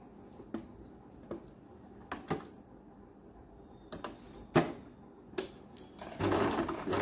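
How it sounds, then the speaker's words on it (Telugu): Sewing machine stitching a blouse dori, short bursts of rapid mechanical whirring separated by pauses, quiet and close, ending in a longer continuous run of stitching. "ఇదిగోండి దూరంగా కుట్టాను, ఇంకా కొంచెం ముందుకు కుడతాను అన్నమాట"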